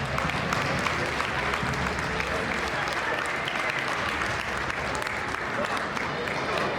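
A gym crowd at a boys high school basketball senior night applauds the youth, loud continuous clapping filling the whole stretch, with crowd noise mixed in.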